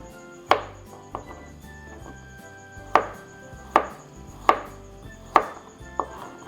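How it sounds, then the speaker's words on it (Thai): A knife chops shallots on a cutting board in slow, spaced strikes, about seven crisp thuds with irregular pauses between them, close and clear with no talking. "หั่นเลย"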